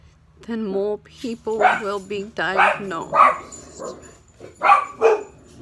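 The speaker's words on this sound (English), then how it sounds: "Sorry about the dogs in the background." Several dogs bark and yip intermittently in the background while a person speaks steadily in the foreground, the barks mixing with and partly masked by the talk.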